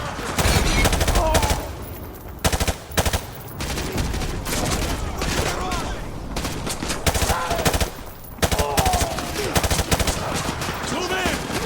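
Dense, continuous automatic gunfire and heavy explosive bursts fill a Modern Warfare 2 Remastered battle at the White House, loud and close, with brief sharp pauses and shouted voices mixed in.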